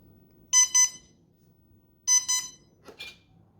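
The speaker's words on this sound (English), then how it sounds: "Then after you connect the battery, you'll have two beeps." Two short electronic beep tones from an Xfly P68 mini twin model aircraft after battery connection, each a quick double pip, spaced about a second and a half apart in a quiet room, followed by a brief higher chirp.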